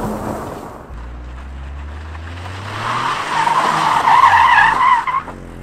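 Toyota GR Corolla sliding on loose ground under its mechanical handbrake, a rising engine note building into a loud, sustained tire skid that peaks and then fades near the end.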